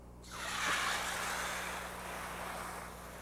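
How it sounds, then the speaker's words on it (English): A garden watering wand gives a soft, steady, rain-like spray of water that starts abruptly and hisses gently and continuously, close by, with a slight swell at the beginning. "the head on it delivers almost a rain-like application of water"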